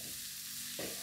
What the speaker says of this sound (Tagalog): Fry lang ulit natin.